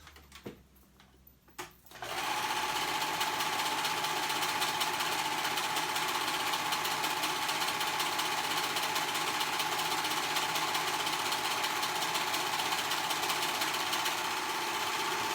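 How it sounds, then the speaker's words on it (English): A sewing machine stitches the edge of fabric for color-blocked kids' joggers, starting after a brief quiet moment and then running steadily and loudly in a continuous whirring drone to the end. "So here, we're gonna sew that edge."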